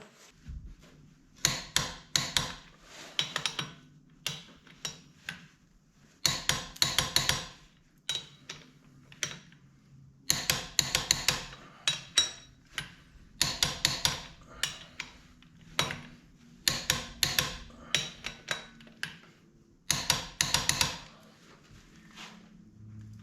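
A torque wrench works on engine bolts of a NASCAR engine going into a C10 truck, sharp metallic clicks and ratcheting in repeated bursts separated by pauses, close and fairly quiet.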